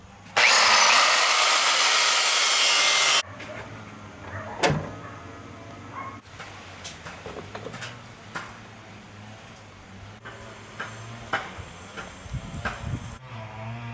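Power tool drilling out spot welds on a VW Kombi body, one loud high whine lasting about three seconds, followed by quieter metallic clanks, taps and handling sounds in a workshop.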